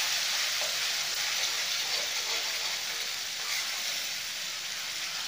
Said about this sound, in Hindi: और गुलाबी होने तक भुनेंगे।